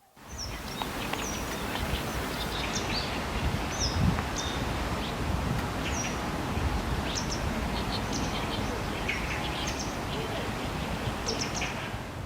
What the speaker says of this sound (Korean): 새소리 2개. 아, 새소리 2개. 참새 소리. 바람 소리.